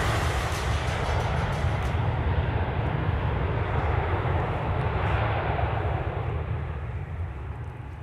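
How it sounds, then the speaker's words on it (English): Delta Airbus A330-900 taking off from the south parallel runway on a full-power departure, a loud, steady jet engine roar with deep rumble that holds for several seconds and then begins to fade slightly. "Our grand finale for our show tonight with the A330-900. And they were quite a full flight here this evening, lifting off from the South Parallel."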